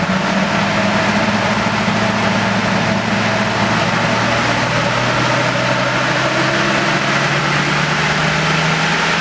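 Toyota Landcruiser 100 series with a 1HD-FTE diesel engine running on a dyno with an aftermarket chip fitted, a loud, continuous engine drone with a steady low hum and gradually rising pitch, no talk.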